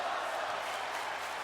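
Wrestling match audience cheering and applauding, a continuous broad roar of crowd noise that stays steady and full throughout the short burst.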